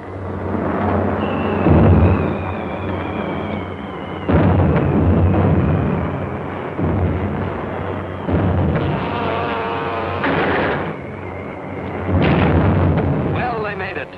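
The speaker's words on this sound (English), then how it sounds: "Direct hits with those 600 pounders of TNT blowing up right in Hirohito's face" TNT bombs of 600 pounds exploding on a Japanese aircraft carrier, heard as a continuous roar of heavy blasts and rumbling bursts. The loud, dense barrage fills the whole stretch with a few whistling tones on top.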